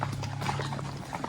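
Quarter horse hooves clip-clopping along a trail during an extreme horse and mule ride, a quick irregular series of hoofbeats close by, fairly quiet, over a low steady hum.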